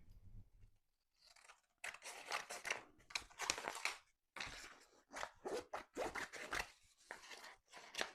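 Scissors cutting out a thick, textured photo print with a possible vinyl coating, giving a close series of crisp snips and crunches in uneven bursts with short pauses between.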